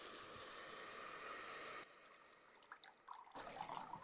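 Liquid, water or milk, pours steadily onto soaked rice for garlic milk rice, a hissing splashing stream for nearly two seconds before it drops to faint, scattered trickles and drips.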